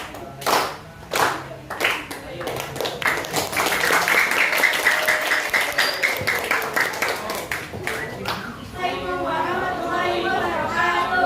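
A classroom group claps in rhythm, a few loud separate claps followed by sustained dense clapping. Children chatter and call out over it, and a voice speaks near the end.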